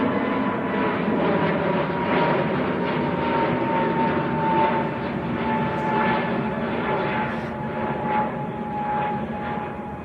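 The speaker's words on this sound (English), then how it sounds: "A321 Neo." An Airbus A321neo airliner at Manchester Airport produces a continuous droning engine hum with a distinct tonal whine, fairly close and steady throughout, no voices.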